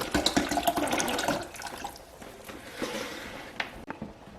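Remaining water poured into a pitcher of strawberry lemonade, a steady splashing pour that tapers off, ending with a couple of light clunks.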